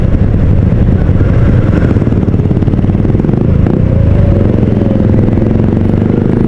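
A heavy big-bike motorcycle engine rumbles loudly and close by throughout as it passes on a highway, a dense, steady roar with some mechanical clatter.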